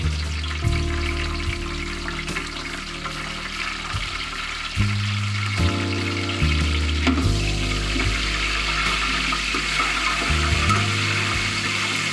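Whole spices, cinnamon, cardamom, cloves and peppercorns, along with green chillies fry in hot oil for tehari, a steady close sizzle with intermittent scraping and clunks from stirring throughout.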